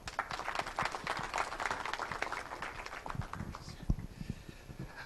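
Applause from a conference audience at a science week opening, a scattered, moderately quiet crowd clapping that thins and fades toward the end, with a few louder individual claps.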